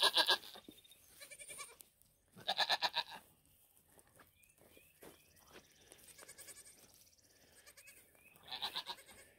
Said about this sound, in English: The baby goats are doing good.